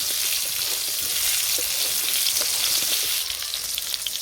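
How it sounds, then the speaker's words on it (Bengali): Slices of pointed gourd (potol) frying in a pan, giving a steady, close crackling sizzle that runs without a break and thins slightly toward the end, with no voices. "পটল ভাজা হয়ে গেছে"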